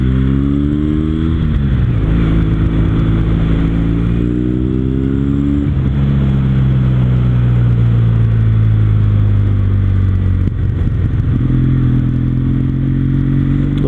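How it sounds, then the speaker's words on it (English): A Kawasaki W800 cafe racer motorcycle is ridden at speed, its loud exhaust rumbling close up through a helmet microphone, the engine note rising and falling through several gear changes over continuous wind noise. "Hopefully the exhaust sound comes through on the video pretty good."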